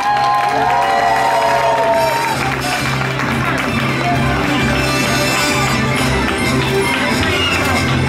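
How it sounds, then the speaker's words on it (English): Onlookers at a diploma ceremony applaud and cheer loudly and continuously, their clapping and whoops blending with crowd noise and background music. "the onlookers give you another round of applause"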